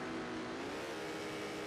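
Porsche and Ford GT race cars at the 2017 24 Hours of Le Mans, their engines roaring loud and steady together at close range, a continuous high-pitched motor whine with no voices.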